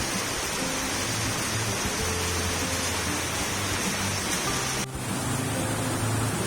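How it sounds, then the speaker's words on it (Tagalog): Heavy rain pours down during Typhoon Hanna, a dense, steady roar that holds at an even level throughout with no voices, dipping only briefly near the end. "napakalakas talaga ng ulan"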